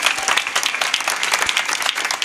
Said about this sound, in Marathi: आपल्या गावासाठी जोरात टाळ्या झाल्या पाहिजेत